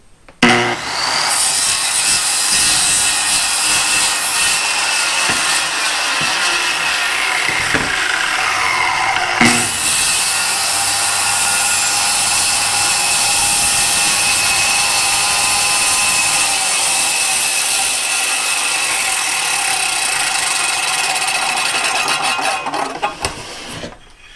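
A saw makes an angled plunge cut in wood, a loud continuous buzzing whine that briefly dips and restarts before running steadily to the end.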